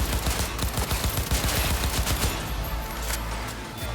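Rapid shotgun blasts in Cyberpunk 2077, a powerful four-shot weapon, firing in a dense burst of sharp, loud reports for about two and a half seconds before trailing off into quieter game ambience.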